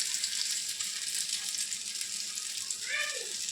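Food dropped into smoking-hot oil fries with an even, hissing sizzle, and a brief voice-like sound breaks in near the end.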